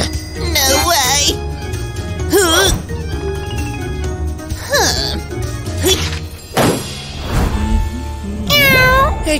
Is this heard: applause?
no